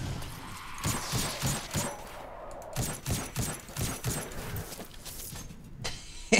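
A scout rifle fires in a shooter video game, a string of sharp, evenly spaced shots ringing out one after another with brief gaps and a short pause near the end.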